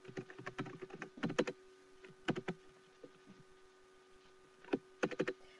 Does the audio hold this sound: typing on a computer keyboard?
yes